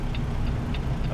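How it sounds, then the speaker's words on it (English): Truck turn signal in American Truck Simulator, a steady tick-tock blinker clicking about twice a second, close and distinct over a low constant engine rumble. "all you hear is a freaking blinker"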